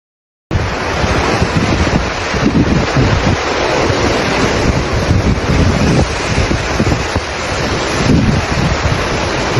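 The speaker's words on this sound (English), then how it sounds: "Massive waves slammed into the cliffs with relentless power." Massive ocean waves slam into cliffs, a loud, continuous roaring surf with heavy wind buffeting the microphone and no voices.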